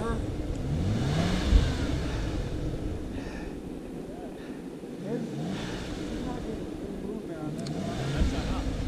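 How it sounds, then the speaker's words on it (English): A Toyota FJ Cruiser's engine rumbles and revs on a Medano Pass trail in Colorado with its back left tire spinning. The surging engine noise sits under people talking. "I see that back left tire spinning"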